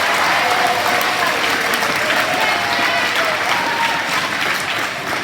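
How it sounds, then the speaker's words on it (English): Loud, dense applause from students at a school assembly, many hands clapping together steadily for several seconds with faint crowd murmur underneath. "Give them a round of applause."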